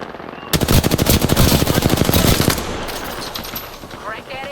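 Rapid automatic gunfire from a firefight in Apex Legends, a dense loud burst of shots lasting about two seconds, then fading into softer game ambience with a faint voice near the end.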